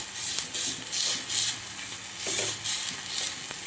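Whole coriander leaves fry in a little oil, a soft steady sizzle broken by a few stirring scrapes and faint clinks, close and moderately loud, with no voices.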